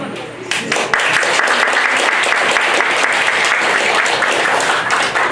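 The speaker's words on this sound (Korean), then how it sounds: "여러분 큰 박수로 시작하겠습니다" Loud, dense applause fills a book launch event for a collection of testimonies from families of victims of Japanese forced mobilization, sustained throughout with no talking.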